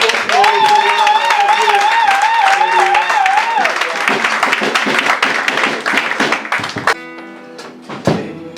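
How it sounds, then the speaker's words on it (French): Church congregation clapping during a celebratory service for a pastor's anniversary, brisk claps under a singing voice at first, then claps alone that fade as music chords ring out at the end. "Et applaudissons"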